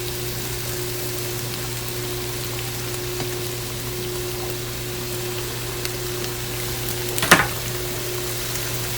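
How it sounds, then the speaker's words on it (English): Chicken sizzles and crackles steadily in a hot skillet, with a low electrical hum underneath and a brief clatter near the end. "So we're going to let this sizzle."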